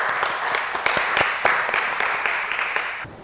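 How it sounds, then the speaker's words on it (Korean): Audience clapping at a church workshop session, a loud, even round of applause from a gathered group that stops abruptly near the end. "박수 치고 맞춰도 될까요?"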